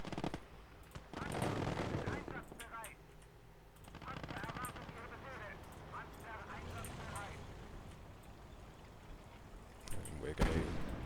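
Artillery shelling and bursts of gunfire in the World War II game Call To Arms: Gates Of Hell, rattling and booming in clusters at mid distance, with someone talking over much of it.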